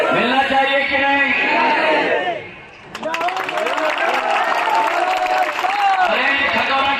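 Crowd applause at a political rally in Maharashtra, a steady broadband clatter that swells after a brief dip and continues beneath a man's loud amplified speech.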